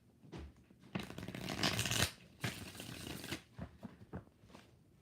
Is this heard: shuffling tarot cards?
yes